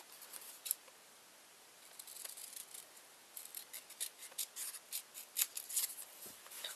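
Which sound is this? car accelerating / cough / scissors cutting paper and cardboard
scissors cutting paper and cardboard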